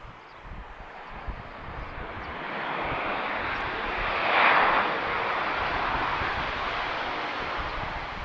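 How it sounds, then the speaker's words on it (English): A Ryanair airliner arriving at Lisbon Airport from Brussels, its jet engines a broad, steady roar that swells to a peak midway and stays loud, heard from a spotting position outdoors. "A nice noisy arrival from Ryanair there."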